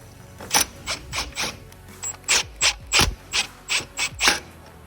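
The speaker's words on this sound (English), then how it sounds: "Now you can go ahead and put your screws back in right here." Screws are driven back into a 1/2 HP Raynor garage door opener during gear and sprocket replacement, giving a close series of about a dozen rapid ratcheting clicks in short regular bursts, with no talk.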